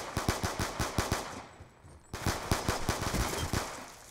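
Automatic weapon fire in a Black Ops 2 multiplayer match, two rapid bursts of evenly spaced, close and loud shots separated by a short pause, with no talking.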